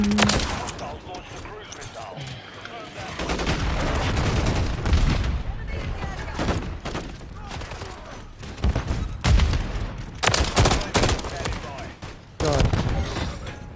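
Assault rifle gunfire in a Call of Duty match, dense bursts and rapid volleys of shots with booming impacts running through most of the stretch, loud and close, with a voice talking over parts of it.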